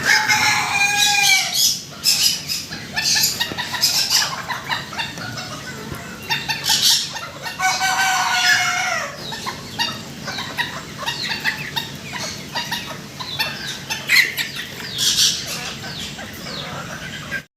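Two-month-old Japanese fancy chickens cluck and squawk loudly, with a rooster crowing in several bursts, the calls overlapping in a busy poultry market.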